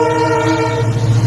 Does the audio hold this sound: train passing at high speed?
yes